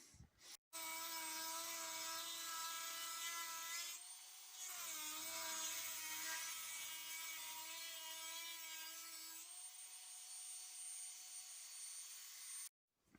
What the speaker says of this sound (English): you just drill a hole here and drill another hole here, and then I use my Dremel, as you just seen